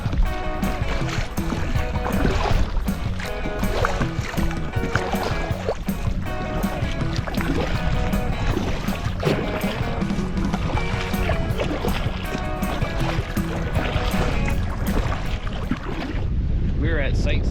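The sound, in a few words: motorboat engine running on French River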